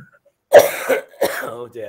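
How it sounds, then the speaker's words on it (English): A person coughs after laughing, a couple of close, harsh bursts amid speech-like vocal sounds. "laughing made me cough again"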